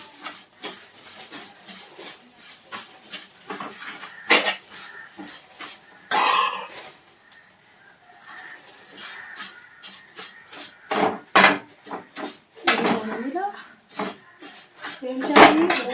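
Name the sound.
vermicelli being roasted and stirred in a pan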